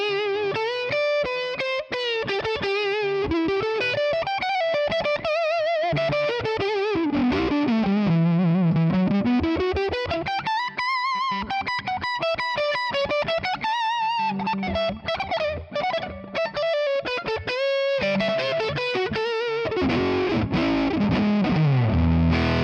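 An electric guitar on the neck pickup plays through a ToneX ONE character amp model with reverb, a warm distorted lead of sustained bending notes and quick runs, loud and continuous with no talking.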